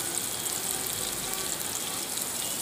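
Onion, garlic and ginger frying in hot oil in a pan, a steady hissing sizzle held evenly throughout with no talking.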